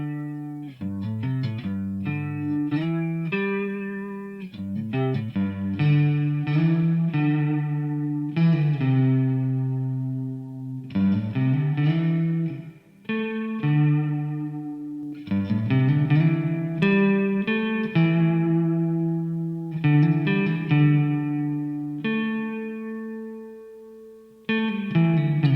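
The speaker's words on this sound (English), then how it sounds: "This could be your one and only go-to reverb for pretty much any situation." A synth or guitar passage played through the Valhalla Supermassive reverb plugin: sustained chords with long, washing tails that blend into each other, with a few brief gaps, and no talking.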